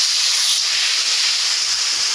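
A ground spice paste hits hot oil in a wok and sizzles loudly and continuously, a dense close hiss with no pauses.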